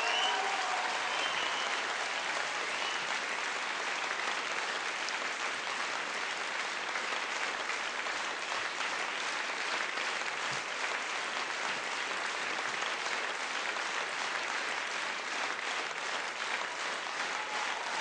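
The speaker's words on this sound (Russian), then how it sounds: "Бесконечнейшие аплодисменты." Concert audience at a large festival show applauding after a singer's performance, sustained dense clapping that holds steady and loud for about eighteen seconds with crowd noise underneath.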